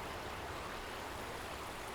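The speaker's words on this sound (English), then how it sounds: "A few miles to the east of Deep Creek flows the Savage River" Steady broadband rush of the Savage River flowing in Maryland near the West Virginia border, a constant, even wash of moving water with no voices.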